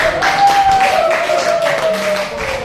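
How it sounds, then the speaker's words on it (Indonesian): A classroom audience claps for presentation group 1, a dense, steady patter of applause filling the room, close and loud throughout with a faint voice underneath. "Kita beri aplaus untuk kelompok 1"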